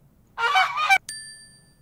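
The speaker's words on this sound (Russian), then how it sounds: "Покажи гуся. Он гогочет." A recorded goose honks once in a children's animal-learning game, a nasal call lasting about half a second, then a bright chime rings out and fades.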